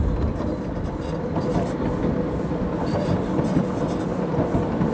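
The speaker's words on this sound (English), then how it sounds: "That it's a genuine steam train, but a miniature one." Miniature steam train running on rails on the Winelands Light Railway in Stellenbosch, a steady close rumble of wheels and carriages with continuous clickety-clack throughout, no voices.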